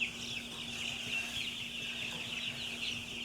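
A brood of young meat chickens in their first week, kept on dry bedding, cheeps constantly, a dense high-pitched chorus steady throughout under a faint electrical hum.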